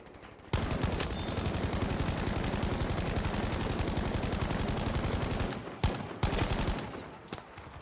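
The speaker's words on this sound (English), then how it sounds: "Still getting those shots in" Rapid automatic gunfire from a Battlefield V squad conquest match, a dense sustained burst of loud shots running for several seconds, then a few short separate bursts near the end with no talk over it.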